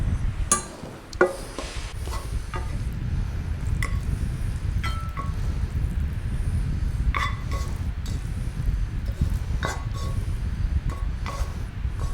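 Indonesian-style stir-fry noodles served from the pan into a bowl, light scattered clinks and taps of utensil on crockery over a steady low rumble of background noise, close and fairly quiet with no talking.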